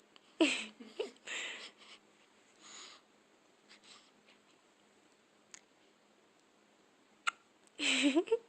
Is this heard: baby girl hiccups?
yes